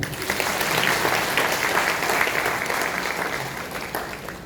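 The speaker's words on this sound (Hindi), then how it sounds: "ताली तो बजाओ" A seated audience at a spiritual talk applauds steadily, a dense and fairly loud wash of clapping that holds for several seconds.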